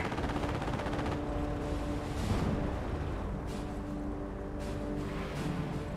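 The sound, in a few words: machine gun fire in video game Company of Heroes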